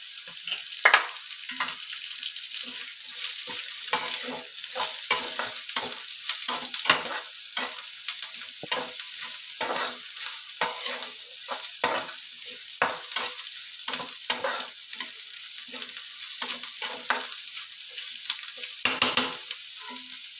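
Potatoes fry for a potato fry dish, a continuous crackling sizzle in a pan, broken by repeated scraping stirs of a spatula close by.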